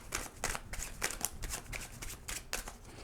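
Tarot cards being shuffled by hand, a steady run of soft papery riffles and flutters repeating in quick bursts, close and alone with no talking.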